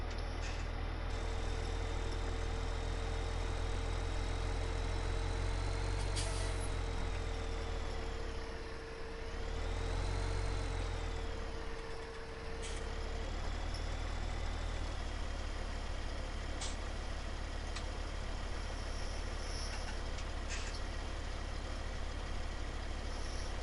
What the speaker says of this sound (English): That's about all this tractor is good for.